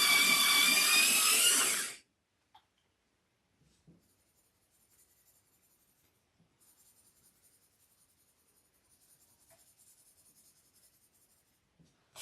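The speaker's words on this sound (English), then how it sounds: "I'm gonna sharpen my pencil." A colored pencil is twisted in a manual sharpener for about two seconds, a loud, dense, close grinding burr that stops abruptly, leaving near silence with faint scratching.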